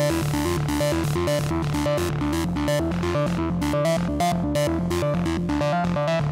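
A techno synth melody on its original preset plays a dense, steady run of bright stabbing notes over a full low end, continuous and loud with no voices.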